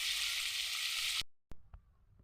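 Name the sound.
potatoes frying in pan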